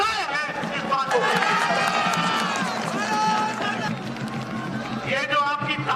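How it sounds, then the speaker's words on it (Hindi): Crowd at a political rally in West Bengal clapping and cheering, a loud roar of voices and applause sustained under a speaker's amplified talk throughout. "ये जो आपकी तालियां हैं, ये जो आपकी गड़गड़ाहट है"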